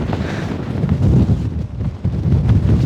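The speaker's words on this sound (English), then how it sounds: "My God, it's windy." Strong gusting wind on a mountaintop in Guatemala buffets the microphone with a continuous low roar and rumble, rising and falling in loudness with no voices.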